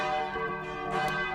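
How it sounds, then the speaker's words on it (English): A tolling bell rings in the Deathtrap Dungeon game, its steady sustained tone ringing out loud and continuous with a lingering hum, and no voices over it. "You search desperately for a way of stopping the bell."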